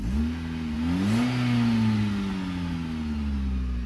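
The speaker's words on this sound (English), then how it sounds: "Sound like an exhaust noise" A car engine revving with a low, droning exhaust note that rises and holds, from something loose under the exhaust, steady and fairly loud at close range with no talking.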